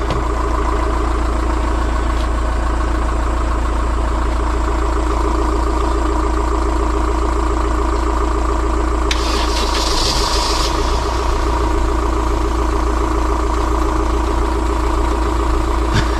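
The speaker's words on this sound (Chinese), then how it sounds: "去发动汽车" A Honda Fit's engine, left long without battery power and shaking noticeably, idles steadily and close by with a constant low hum, a brief burst of higher noise midway through.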